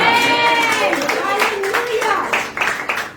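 Congregation clapping during a Hindi sermon, rhythmic bursts of hand claps over an ongoing voice, fairly loud and close, with claps growing sharper toward the end.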